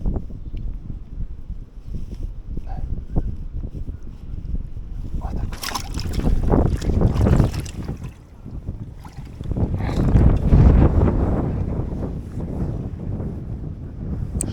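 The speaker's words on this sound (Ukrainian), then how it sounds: "Шалений вітер." Strong spring wind buffets the microphone in loud, rumbling gusts that rise and fall while trout fishing near Slavske, Ukraine, with faint muffled voices now and then.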